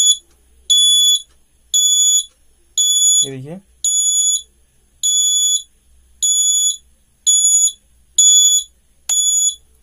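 A homemade bike and car indicator circuit sounds its buzzer in a steady pattern of about ten shrill, evenly spaced beeps. The beeps are loud and close, and someone speaks briefly between two of them.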